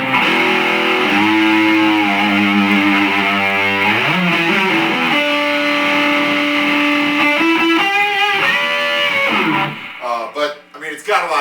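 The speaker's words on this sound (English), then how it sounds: "So you can get some more power amp distortion, power tube distortion if you crank it." Electric guitar through a Kustom Coupe '36 combo amp cranked into power tube distortion, sustained overdriven chords and bends ringing loud and close, ending in a few choppy strums.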